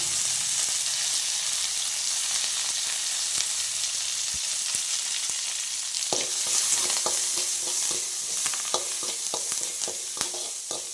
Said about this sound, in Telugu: ఇప్పుడే ఆనియన్స్ కూడా వేసుకునిద్దాం